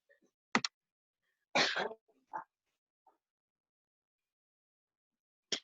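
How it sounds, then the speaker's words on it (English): A few short coughs and a rough throat clearing, close and fairly quiet, separated by stretches of near silence. "he's like having a little coughing fit"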